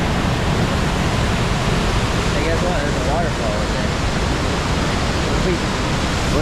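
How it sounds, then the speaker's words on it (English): A waterfall in Yosemite, a loud, unbroken rushing roar of falling water, with faint voices briefly audible through it. "There's a waterfall over there."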